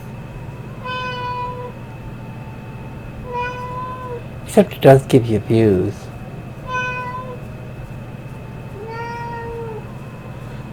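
A small Siamese cat meows several times in short, insistent calls, mostly alone, with one brief burst of clattering noise partway through and a quiet spoken remark.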